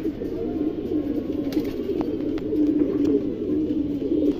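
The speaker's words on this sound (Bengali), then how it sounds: "এই যে দেখেন এরা একটা পুরান লাইনের খরা গলা কবুতর, খুবই সুন্দর।" Old-line pigeons coo inside a cage, a steady, close, low rolling cooing that continues throughout without pause.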